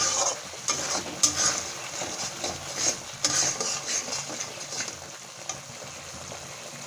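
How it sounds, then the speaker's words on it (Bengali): Masala spices stir-fried in hot oil for a Bengali eggplant dish, with a steady sizzle under repeated scraping and clinking of a spoon against the pan. "বন্ধুরা দেখেন মশলাটা ভালো করে কষে নেবো।"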